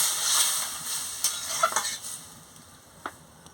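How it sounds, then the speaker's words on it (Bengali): A vegetable chorchori curry of drumstick stalks, potato, carrot and brinjal is stirred in a pan after water is added, giving a soft wet sizzle with a few faint scraping strokes and a light knock. "কষানো হয়ে গেছে, আমি পরিমাণ মতন জলটা দিয়ে দিচ্ছি। দিয়ে ভালো করে নাড়িয়ে নিচ্ছি।"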